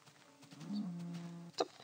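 A single low, sustained Minecraft cow moo lasting about a second, clear and fairly close, followed by a brief sharp click.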